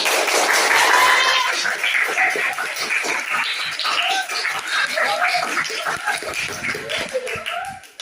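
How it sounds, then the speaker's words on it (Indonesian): Classroom applause with light laughter, a group of students clapping steadily with chuckles mixed in, tapering off toward the end. "Silakan tepuk tangan."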